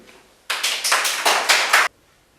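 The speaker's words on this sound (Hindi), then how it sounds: "जोरदार तालियों से स्वागत" A small audience at a Hindi poetry gathering claps to welcome a poet, a short burst of close, crisp hand claps lasting under two seconds and then stopping abruptly.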